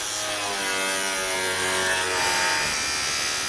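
A power tool saws and grinds through the welded-shut body of a 1985 Chevy Monte Carlo G-body, a loud, continuous buzzing whine held steadily up close with no talking.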